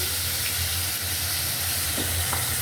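Spices and onion paste fry in a pan, a steady close sizzle and hiss with a low background hum and a few faint clinks, no voices.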